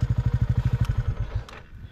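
A motorcycle engine runs close by on a mountain highway tour, with a fast, steady low pulsing thrum that loosens and fades toward the end, briefly clattering.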